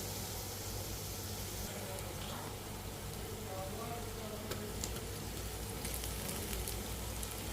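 Onions fry in mustard oil with bay leaves inside a clay cooking pot, giving a faint, steady background sizzle that runs unbroken throughout, with no talking.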